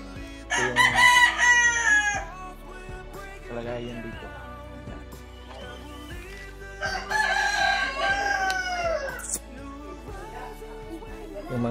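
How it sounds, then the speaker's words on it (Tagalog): A rooster at a home in the Philippines crows twice, each crow a long, loud, wavering cry with quieter background sounds between them. "manok namin tol ay nandito pa rin."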